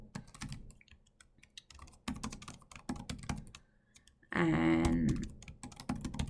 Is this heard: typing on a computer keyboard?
yes